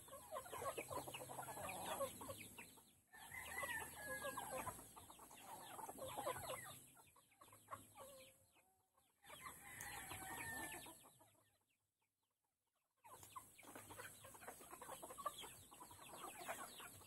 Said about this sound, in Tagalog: Chicken, oh. Chicken!